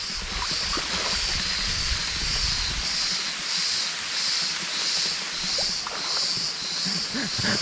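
Water pours steadily down a waterfall on a hiking trail in Butterfly Valley near Fethiye, Turkey. The rushing sound is continuous and fairly close, with no talking over it.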